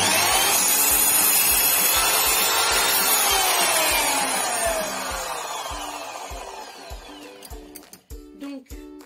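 A power saw rips through a wooden plank screwed down like a clamp for a birdhouse build, a loud harsh cutting roar that winds down into a fading whine followed by a few sharp knocks.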